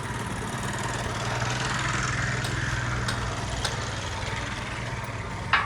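A tractor engine runs on a farm with a steady, continuous low drone and rumble at moderate distance, holding an even level throughout with no talk.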